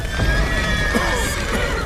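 Horses in The Witcher 3 video game whinny loudly over the clatter of hooves, amid a busy, noisy in-game scene with continuous background action.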